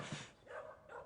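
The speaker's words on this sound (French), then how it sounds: "Fausse alerte, c'est juste un chien." A dog gives a short bark and a couple of quick yips, moderately near and fairly soft, in a French TV series scene.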